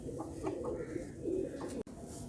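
Three pigeons cooing in a loft, soft low repeated coos in a slow rhythm, close but fairly quiet against a steady background hum.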